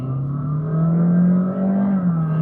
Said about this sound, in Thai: ลองกดขออีกทีนะครับขอช่วงจังหวะเปลี่ยนเกียร์ดู